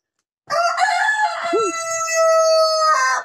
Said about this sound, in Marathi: एक 3 किलोचा कडकनाथ कोंबडा आहे इथे